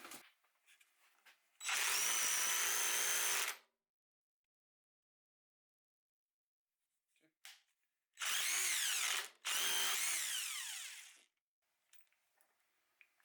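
A Dewalt impact driver fires in three loud close bursts, one long run then two shorter ones, against a 1/4 bolt with silence between, ending as the bolt snaps off.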